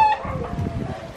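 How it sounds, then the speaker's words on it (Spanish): Chickens and guineafowl cluck and chatter in a busy farmyard, a short high crow-like call at the start over steady low clucking. "Ahí hay guinea, gallina y todo eso."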